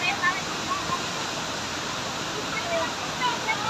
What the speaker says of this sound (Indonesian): airnya lumayan deras